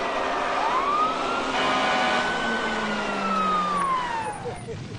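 A fire engine siren, responding to an oil tank fire in Three Rivers, Texas, in 1990, wails in one long rising and falling sweep. It sounds loud and close over steady traffic rumble.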